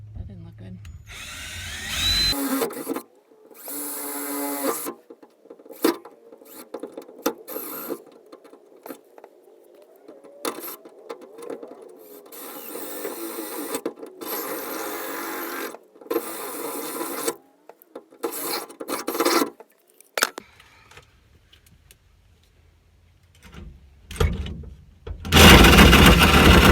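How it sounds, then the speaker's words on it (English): Jigsaw cutting through the metal roof of a Dodge Ram van to fit a roof fan, loud harsh rasping buzz in bursts that stop and restart, with brief quiet gaps between cuts. "I gotta be able to put the jigsaw in and cut all the way around."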